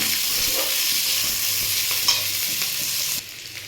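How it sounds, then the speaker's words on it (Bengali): Sliced onions stirred in a hot pan for sweet chilli baby corn, a steady loud sizzle running throughout, with soft scraping of the spatula before the frying sound drops away near the end. "পেঁয়াজটা হালকা নাড়াচাড়া করে নেব"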